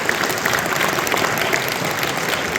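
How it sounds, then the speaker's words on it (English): A live audience at an evening event with UFC lightweight champion Khabib Nurmagomedov in Chicago breaks into a dense, steady round of applause that holds at an even loudness throughout. "Guys, round of applause, guys."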